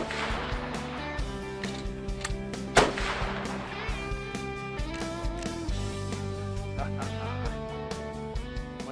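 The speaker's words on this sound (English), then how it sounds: "So let's see where this first shot goes." A single sharp Winchester rifle shot fired while sighting in on a caribou hunt in Quebec cracks out loud and close, standing alone against a steady outdoor background.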